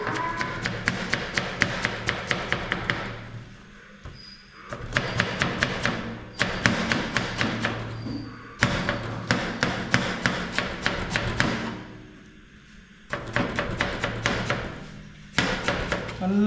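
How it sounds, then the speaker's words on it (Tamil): Half a cabbage julienned with a knife on a cutting board: fast, even runs of crisp taps against the board in several bursts, separated by short pauses, close and clear with no talking. "நான் ஜூலியன் பண்ணிக்கிறேன்"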